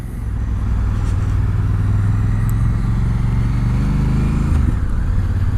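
A Honda Africa Twin motorcycle engine hums loudly and steadily while riding on asphalt, with a smooth low drone that holds even throughout and shifts pitch slightly near the end.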